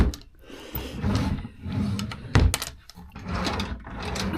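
Drawers of a dressing table in a hotel room slide open and shut in several uneven wooden scrapes and thumps, close by, with one sharp knock midway.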